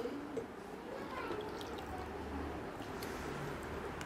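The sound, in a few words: pouring Kangen water into a glass with a tea bag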